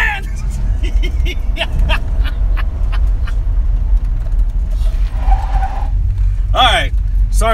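Tires of a 1974 Dodge Monaco police car squeal and skid in repeated loud bursts over a steady engine roar, with the car close by.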